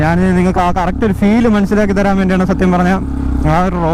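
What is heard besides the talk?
No distinct noise like a dog, phone or traffic.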